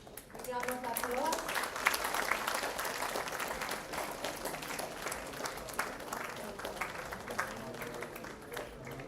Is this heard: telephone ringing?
no